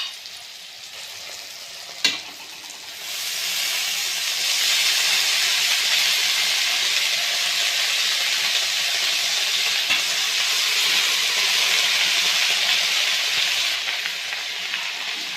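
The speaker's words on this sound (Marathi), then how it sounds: "तर मेथी टाकून घेते." Fenugreek leaves hit softened tomatoes in a hot pan, setting off a loud, steady sizzle that swells and holds after a single sharp clack near the start.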